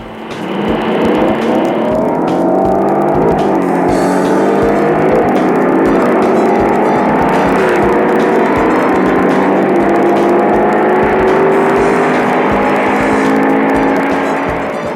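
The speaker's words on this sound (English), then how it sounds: "Next, the 425 horsepower, 409 cubic inch V8. Watch it in action against Ford's 406." A 425-horsepower Chevrolet 409 cubic inch V8 races against a Ford 406 in a 1962–63 drag run, with a loud, sustained engine roar that climbs steadily in pitch as the cars accelerate, with no talk over it.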